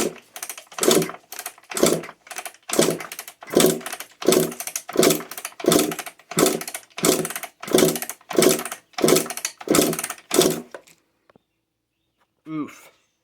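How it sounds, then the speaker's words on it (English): A 1999 Kawasaki KX125 two-stroke dirt bike engine kicked over with the throttle open for a compression test, about a dozen rhythmic loud chuffing strokes, evenly spaced, then silence with a brief click near the end. "Gonna kick it over a few times. Throttle open."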